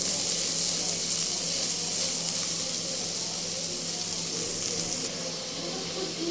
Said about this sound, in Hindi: थोड़ी देर शिमला को भी इसी तरह भूनना है